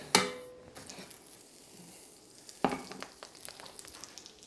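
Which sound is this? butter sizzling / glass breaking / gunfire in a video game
butter sizzling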